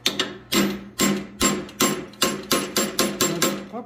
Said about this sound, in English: drive that 1/8 inch ball punch right there